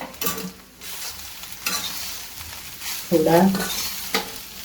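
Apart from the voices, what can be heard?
frying soya chunks in oil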